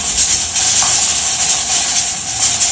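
Steam hisses steadily and loudly from a cooking pot of yema spread as the lid comes off, a continuous broadband rush with no pauses.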